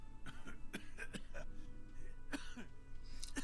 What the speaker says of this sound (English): The aging cryptozoologist breaks into a hideous coughing fit.